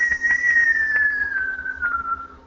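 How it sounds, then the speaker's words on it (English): A person whistles a single clear note that glides slowly downward in pitch over a couple of seconds, close and unaccompanied, with no talking. "if I whistle"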